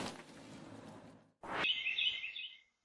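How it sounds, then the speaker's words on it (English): A bird chirps in a quiet early-morning Germantown neighborhood, a short series of thin high tweets after a soft rushing sound and a brief thump. "The early morning sounds of birds chirping in this Germantown neighborhood"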